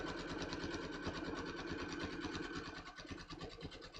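A sewing machine stitching a buttonhole, a rapid steady mechanical whirr of the needle running close and continuous, easing slightly toward the end.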